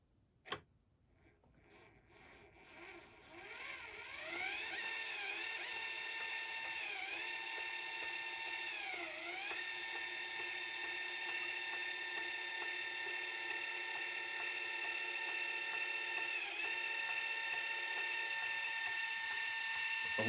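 After a sharp click, the geared motor of a Celestron CGEM II telescope mount, with tightly meshed gearing, whines steadily for many seconds, pitch dipping and wavering now and then, fairly loud and close, with no talk.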